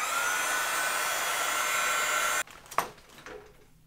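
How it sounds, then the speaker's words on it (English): A Sizzix heat tool blows with a steady, loud whooshing hiss while melting embossing powder on a card, then cuts off abruptly, followed by a brief clatter of it being set down. "I'm going to use my Sizzix heat tool."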